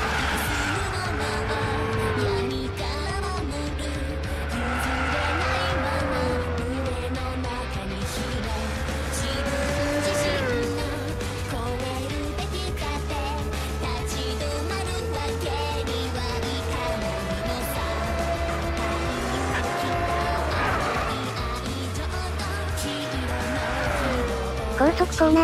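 Pagani Zonda C12 in Gran Turismo 6, its engine droning steadily with rising and falling pitch through gear changes and corners, loud and sustained under continuous speech.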